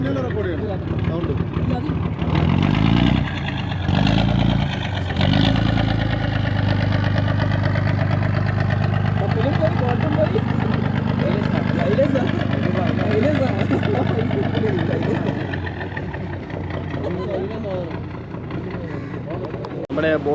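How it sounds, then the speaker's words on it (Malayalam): A boat's engine drones steadily as the boat pulls away from the shore, a loud continuous mid-pitched hum that eases slightly toward the end, with people talking over it. "നമ്മൾ വന്ന ബോട്ട് അതാ പോണു. അത് റെക്കോർഡ് പിന്നെ റെക്കോർഡ് ചെയ്യണം സൗണ്ട്."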